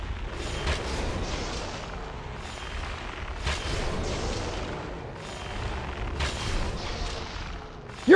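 Rapid booming gunfire from a hunter's bowgun or gun in the PSP game Monster Hunter Freedom 2, loud shots in repeated bursts with thuds throughout, ending in a sharp louder burst.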